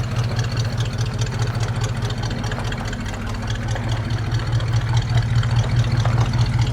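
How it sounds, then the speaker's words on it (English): A square-body pickup truck with a short box and four-wheel drive idles steadily and close, its engine holding a low, even rumble with no talk over it. "We're gonna do a little bit of a sound test comparison"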